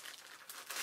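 Thin plastic packaging around a Carl Zeiss Batis 85mm f/1.8 lens crinkles faintly in a short burst of close, soft rustling that grows slightly louder near the end.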